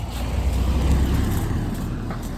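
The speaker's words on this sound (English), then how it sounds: "At least that's actually a reasonable sized car." A car passes close by on a narrow country lane, its engine and tyre rumble rising and then fading over a couple of seconds, with no talking.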